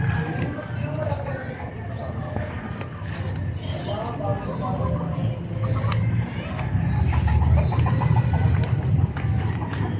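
Chickens cluck and squawk close by amid farmyard bustle, with people talking and calling out over the birds throughout.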